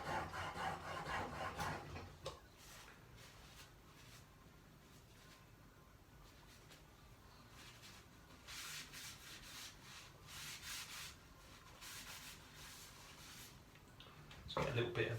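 A blade's primary bevel is ground at 25 degrees on a diamond sharpening stone, a continuous close scraping of back-and-forth strokes with a louder grinding burst at the start and end.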